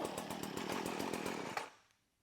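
A STIHL FS 70 grass trimmer's small two-stroke engine runs loud and close just after starting, a steady buzzing rattle with rapid pulses, then cuts off abruptly and fades into near silence.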